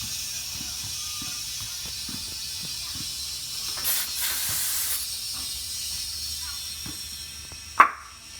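Compressed air hisses steadily into a tubeless street motorcycle tire as it inflates, a constant faint rush with soft clicks underneath. A sharp bang near the end suggests the bead seating.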